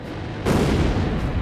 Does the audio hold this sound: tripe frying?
no